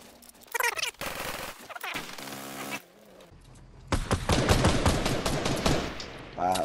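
Gunfire in the video game Game of Forts: rapid bursts and single shots crackle amid mechanical clatter and game effects, loud and near, with people talking over the action.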